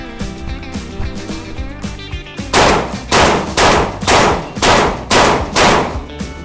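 A Saricam shotgun fired at a shooting session: six loud, booming blasts in a steady, rapid rhythm, each cutting sharply through a quieter tonal background heard before the first shot.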